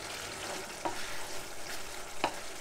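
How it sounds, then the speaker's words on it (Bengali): Onions fry in a pan for a taro leaf curry with shrimp, a steady close sizzle with soft stirring scrapes and a couple of brief sharper clinks from the spoon against the pan. "আর এখানে ওইটা পেঁয়াজ কষানো হয়ে আসছে"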